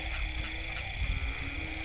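Large frogs croak after heavy rain at night, a close, continuous droning chorus of low, buzzing calls with slight swells in loudness.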